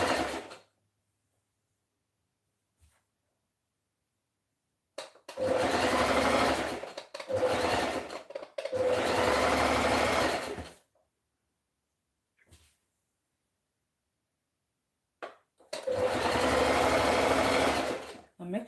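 A sewing machine runs in several bursts while stitching the bottom hem of a skirt for a two-piece top and skirt set, each run lasting one to a few seconds with quiet gaps between, close and fairly loud.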